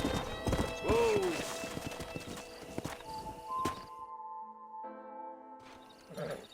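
A horse in the video game Red Dead Redemption clip-clops over ground with several brisk hoof strikes and a loud whinny early on, then the hooves fade to near silence before a final snort-like burst.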